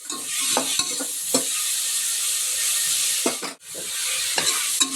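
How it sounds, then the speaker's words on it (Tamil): Onions frying in a pan for chicken kurma, a loud continuous close sizzle with intermittent stirring scrapes and a brief dip midway, heard alone without talk. "வெங்காயம் ஒரு வதம் வதங்கிட்டு தக்காளி போட்டுக்கலாமா வதங்கிட்டோம் வெங்காயம் வதங்க"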